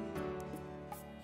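A chicken in the video game Minecraft clucks a few times in short bursts, close and fairly clear with no talking.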